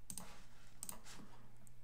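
A few faint, sharp mouse clicks at a computer, arriving in quick pairs against a quiet room hum.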